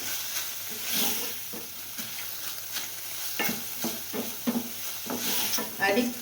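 Mushrooms are dry roasted, stirred and scraped around a hot heavy pan, with soft sizzling and repeated clattering strokes, close and fairly quiet.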